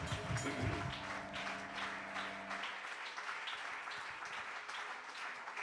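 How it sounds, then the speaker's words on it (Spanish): Applause from a church congregation, dense rapid clapping that carries on steadily throughout, with a sustained musical tone fading out early on. "Dele un aplauso fuerte al Señor"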